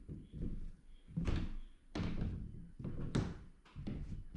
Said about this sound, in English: So as I'm walking around today with loose joists underneath that are not nailed in